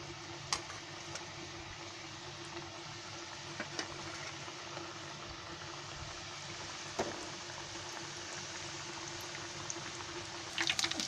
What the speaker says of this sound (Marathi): असे सोडायचे तेलामध्ये